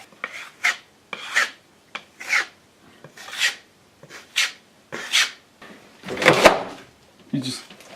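A drywall knife swiping joint mud over tape on a small hole repair, making a series of short raspy scraping strokes in uneven rhythm, close up, with occasional speech between them.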